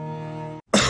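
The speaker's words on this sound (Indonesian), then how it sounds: "Oh, batuk." A single sharp cough bursts out after a sustained tonal hum and a brief silence, loud and close, in an Indonesian TV advertisement for a herbal cough remedy.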